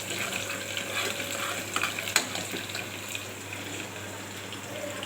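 Peanuts fry with browning onion in a pan, making a moderate crackling sizzle with light stirring and one sharp tap partway through.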